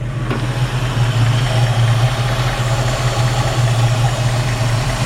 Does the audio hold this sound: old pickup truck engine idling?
yes